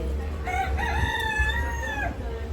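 A rooster crows once, a long drawn-out call of about two seconds, close and clear over a steady low background hum.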